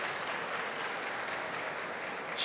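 Many hands clap steadily for two speakers at a tech talk, a quiet, even patter heard somewhat far off, with a slightly louder burst at the very end.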